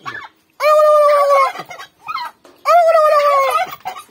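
Two loud, drawn-out squawking calls from a nearby hen, separated by softer clucks, close and clear with no talking.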